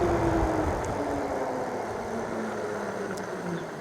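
A Hynox Trooper X dual-suspension e-bike motor running at full throttle, a steady mid-level whir with rolling road and wind rumble, slowly easing off, no talking.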